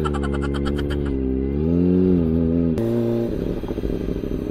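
A Kawasaki Ninja ZX-25R motorcycle rides over a rough road, its high-revving engine whining with a shifting pitch that drops midway, then turning into a rougher, clattering drone near and loud.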